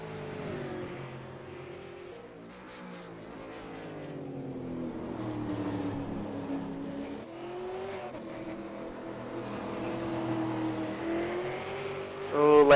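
Race cars battle through the final laps, engines droning and shifting pitch as they pass at a distance, a steady layered roar building to a louder surge at the very end.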